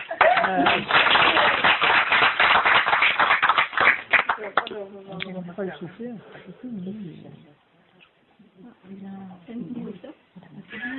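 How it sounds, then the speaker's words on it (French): Audience clapping at a live comedy show in Marseille, a dense burst of applause over the first four seconds, then giving way to someone speaking alone. "Il faut applaudir."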